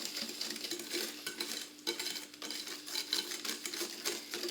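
A utensil stirs orange juice into a cream mixture for an orange and Grand Marnier cream, giving continuous close scraping and swishing against the bowl, with no voices.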